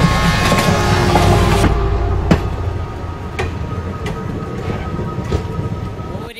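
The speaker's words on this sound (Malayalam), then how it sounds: "ഈ ട്രെയിൻ എവിടേക്കാ പോന്നേ?" A passenger train runs steadily on its route to Thanjavur, a loud continuous rumble with occasional sharp rail clicks that eases slightly partway through.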